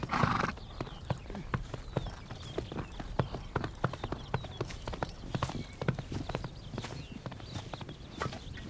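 Several horses being driven along clip-clop at a trot, a dense, fast patter of sharp hoof strikes that keeps going steadily and close by, with a brief whinny at the start.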